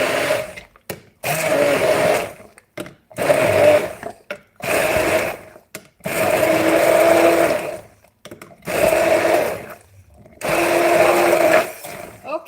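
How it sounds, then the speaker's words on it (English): Electric mixer whirring in loud bursts of a few seconds each, separated by short pauses, while blending mushroom taco ingredients in a kitchen; a voice talks between runs. "you mix them with a mixer. It's going to be a bit sound."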